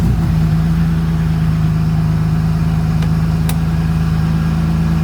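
A BMW E46 M3 drift car, checked over after a crash, sits idling; a loud, steady low engine drone with a strong even hum holds throughout, close to the microphone, with a couple of brief clicks partway through.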